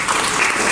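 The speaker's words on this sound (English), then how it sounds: "could you clap?" Audience at a congressional briefing on the Americans with Disabilities Act clapping on request, a short, dense burst of applause, steady and fairly loud.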